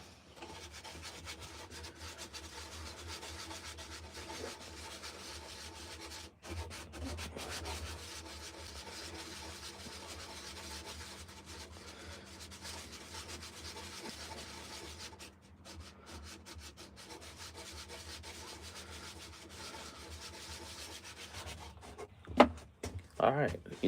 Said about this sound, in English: let's get our sand block here